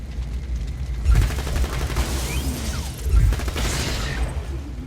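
A gun firing in the Borderlands video game, with two heavy booming shots about two seconds apart, each followed by a rattling, whooshing wash of game effects. Loud and close, with no one talking.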